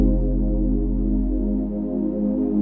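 Drum kit bass drum triggering a deep, sustained 808 bass under a chord pad, a steady, very bassy electronic tone that swells and fades slightly.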